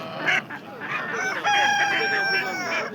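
A rooster crows loud and close at a poultry sale, its long drawn-out call rising over a background of clucking and other birds.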